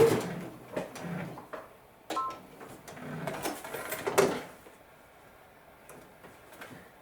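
A sewing machine stitches and back-tacks on quilt binding in short bursts of close mechanical whirring separated by pauses, with faint handling clicks between.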